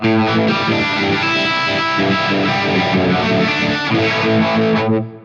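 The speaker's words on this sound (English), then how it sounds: "scene 3, the phaser changes to the Y state and the reverb's turned on and we're still on the Friedman" Distorted electric guitar chords through a Fractal AX8 on a Friedman amp model, with a phaser swirling and reverb on, play loud and sustained throughout before cutting off near the end.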